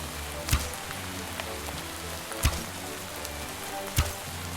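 Raining fire attack in the DawnCraft video game: three sharp, evenly spaced impacts land over a faint, steady crackling patter, fairly quiet throughout.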